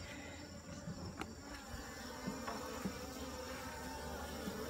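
Honeybees buzz steadily around a hive on a warm, humid morning, a dense continuous drone close to the microphone with occasional louder passes of single bees, no voices.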